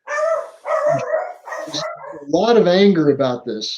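A dog barks and yips repeatedly in short, loud bursts, mixed with someone talking nearby over it.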